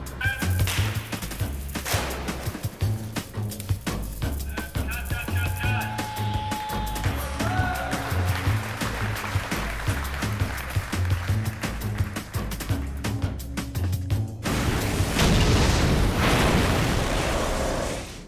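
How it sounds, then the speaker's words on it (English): A large, finely built miniature tower model is destroyed for a film set as a ship model bursts through acrylic, producing dense rapid cracking and popping bursts followed by a louder rumbling crash near the end. "That tower has been absolutely beautifully designed, and now we're going to see it destroyed."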